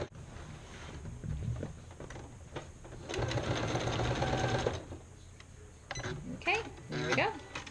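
Sewing machine stitching a tote bag with contrasting thread, heard in short whirring runs and one longer steady burst in the middle, with talk in between the bursts.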